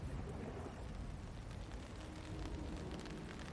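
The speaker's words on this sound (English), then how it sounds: "let's have a walk around in the rain" Steady rain falling outdoors on a cloudy day, a dense continuous wash of patter and hiss at even loudness throughout, with no talking.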